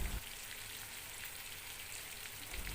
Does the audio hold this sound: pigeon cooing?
no